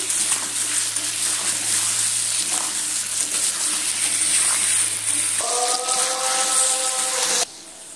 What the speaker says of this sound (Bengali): নুন দিয়ে আলুটা প্রথমে একটু সময় নিয়ে ভেজে নিচ্ছি।